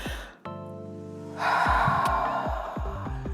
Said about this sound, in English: let's take in a deep breath